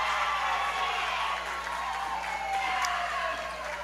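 Crowd noise from spectators at a girls high school basketball game between Dieterich and St. Anthony, a steady broad roar of cheering and applause filling the gym throughout, loud and continuous.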